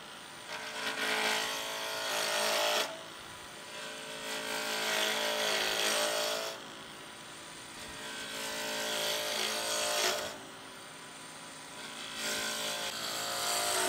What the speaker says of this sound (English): I wanna get this rounded off and then flatten it with my easy wood tool.